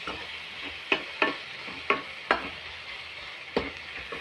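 Tomatoes frying in a pan for Bombay sambar, with a steady soft sizzle and several sharp scrapes of stirring spaced through the clip, close and alone without talk.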